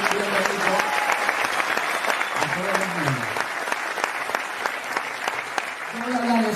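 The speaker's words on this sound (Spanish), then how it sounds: "Vamos a darles un aplauso" Audience applause at a business talk: sustained dense clapping from a crowd, with a voice speaking over it at the start and again near the end.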